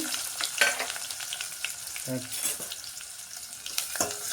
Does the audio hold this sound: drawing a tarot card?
no